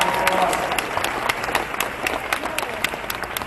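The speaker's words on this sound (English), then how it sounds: "Everyone give Hudson a round of applause." Gala audience at an anniversary event applauding, a steady crowd clapping with sharp individual claps standing out near the listener, some murmured voices mixed in.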